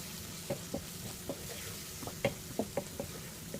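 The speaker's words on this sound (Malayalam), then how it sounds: "ഈ സോസ് ഒന്ന് തിളച്ചു വരണം." Sauce for restaurant-style chilli chicken with capsicum heats in a pan, a low steady sizzle broken by a series of sharp spoon clacks against the metal as it is stirred.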